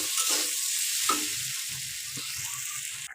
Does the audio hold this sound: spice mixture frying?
yes